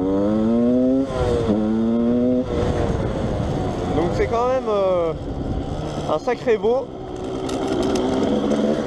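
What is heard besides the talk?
Yamaha DTR 125 motorcycle engine accelerating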